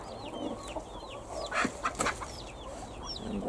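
A hen clucks softly in short bursts while newly hatched chicks peep in high, repeated chirps nearby, with a few brief rustles and bumps.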